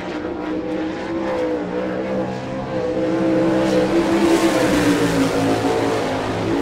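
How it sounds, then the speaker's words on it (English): Race car number 84, driven by Jimmy Stinson, makes a qualifying lap at an All Star Circuit of Champions event in Rossburg, Ohio. Its engine is a loud, continuous roar that swells and builds in pitch, with no talk over it. "Your last qualifier on the racetrack in the number 84."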